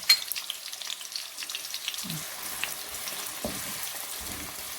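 Sliced onions frying in hot oil for a Delhi-style chicken and potato biryani, a soft continuous sizzle with occasional stirring clinks and scrapes, fairly quiet and close with no talk.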